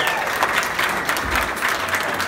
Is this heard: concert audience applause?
yes